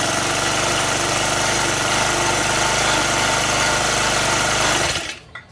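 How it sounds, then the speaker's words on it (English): Mantis 7940 tiller's small gas engine runs steadily at a loud, buzzing idle close to the mic, then cuts out abruptly near the end. "to start it, it's just a simple flip of the switch, choke on"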